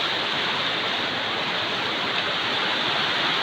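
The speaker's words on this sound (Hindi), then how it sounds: "यहाँ पे देखिए एक दूसरा झरना, 2 झरना गिरता है" Vasudhara waterfall on the Swargarohini trek roars up close as a loud, steady, unbroken rush of falling water with no pauses.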